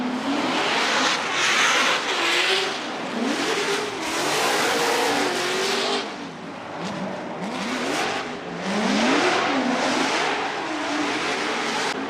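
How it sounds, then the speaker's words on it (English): Chevrolet Corvette drift car on a solo Formula Drift run, its engine revving hard and rising and falling in pitch continuously, loud and fairly close amid crowd and track noise. "Let's listen to the Falcon Tires Drift Cave Corvette of Matt Field with his solo bye run."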